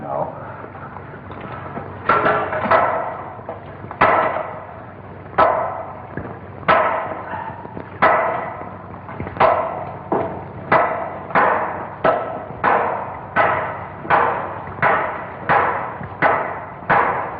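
Two hammers pound through a wall in a 1951 science-fiction film scene, a loud run of sharp heavy blows, sparse at first then quickening into a steady rhythm of about fifteen impacts, each ringing briefly.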